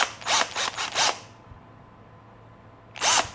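A Parkside PBSA 12 B1 cordless drill boring into wood, three short whining bursts in quick succession, a pause, then another burst, loud and close with no talking.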